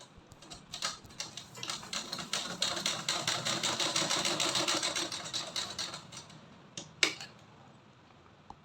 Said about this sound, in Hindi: तो यहाँ पे डबल सिलाई चला देंगे।